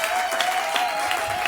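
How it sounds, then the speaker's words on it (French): A church congregation claps and cheers for the glory of God during a Passover sermon, loud dense applause close by with scattered sharp claps and a faint steady tone beneath. "tu peux acclamer pour la gloire de Dieu"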